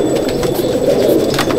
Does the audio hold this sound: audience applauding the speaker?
no